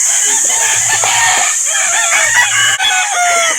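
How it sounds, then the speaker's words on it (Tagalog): Chickens and roosters at a poultry market in Calauan, Laguna: loud, close clucking and squawking from many birds at once, with a rooster's crow rising through the din and low murmurs of the crowd underneath. "Dami dalang manok, oh"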